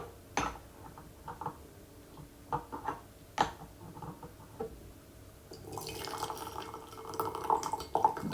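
Boiling water pours over about 5 grams of aged Yiwu gushu pu-erh tea for a 70 to 75 millilitre steep, with soft drips and clinks first, then a steady trickling fill building in the last few seconds.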